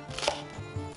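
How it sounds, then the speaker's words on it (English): A kitchen knife chops green onions on a cutting board, giving a few sharp, close taps alone in a quiet room. "Cut 2 green onions and set half aside."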